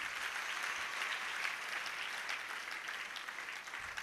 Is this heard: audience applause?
yes